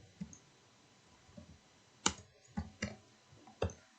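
Scattered keyboard clicks on a computer while a Microsoft Word document is edited, a few soft taps then a cluster of sharper, louder keystrokes spaced unevenly in a quiet room.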